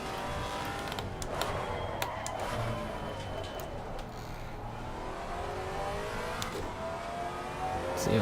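A BMW GT4 race car at Brands Hatch in Assetto Corsa Competizione, its engine droning and revving steadily with rising and falling pitch, shifting gears, a continuous moderately loud motor note throughout.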